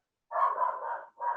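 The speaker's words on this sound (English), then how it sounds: "apologies for the dog" A dog barks close by, giving one long drawn-out bark followed by the start of another.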